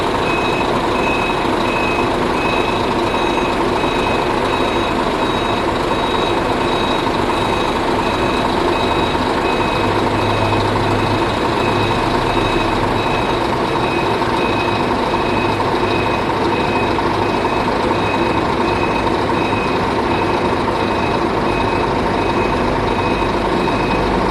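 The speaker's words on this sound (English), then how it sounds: "there's a bus leaving now" A bus reverses out of the long-distance bus station at the Chiayi transit center in Taiwan, its reversing beeper chirping steadily over a deep, rumbling diesel engine amid constant traffic and station noise.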